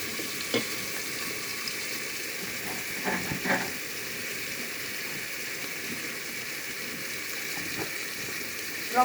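Country chicken curry base of spices frying in oil while being stirred, a steady soft sizzle with a few scraping stirs and light clinks against the pot.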